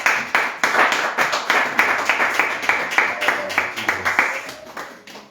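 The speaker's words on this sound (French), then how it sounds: "Est-ce qu'on peut acclamer le Seigneur?" A church congregation claps and applauds together in a steady, loud rhythm of repeated hand claps that continues for several seconds with no voices over it, then eases off slightly toward the end.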